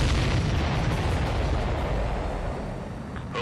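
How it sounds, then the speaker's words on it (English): Continuous booming explosions like fireworks, loud and dense, fill the sound of the Ace Combat 7 flight game for a few seconds without pause. "That was weird. Fireworks."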